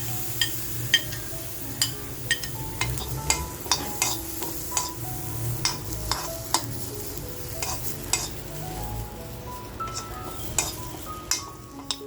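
Cumin seeds in a hot pan, with dry grated coconut also warming there, as a spoon scrapes and taps repeatedly against the pan over a soft sizzle, close and fairly loud, no speech.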